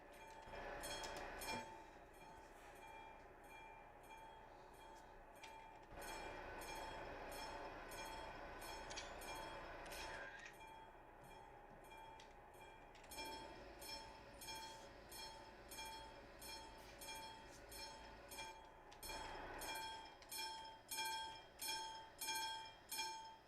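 A train in Euro Truck Simulator 2 rumbles past for a long stretch, with rhythmic wheel clatter toward the end and a steady hum beneath; no talking.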